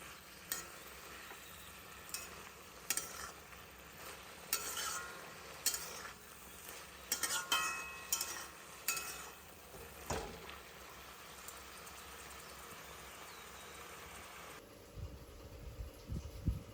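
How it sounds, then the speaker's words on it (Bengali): Chopped red amaranth greens frying with garlic in a pan, a soft continuous sizzle with intermittent stirring scrapes and clinks spread throughout, fairly quiet and close, no voices. "এবারে রসুন ফোড়ন দিয়ে ভাজা বসিয়ে দেব।"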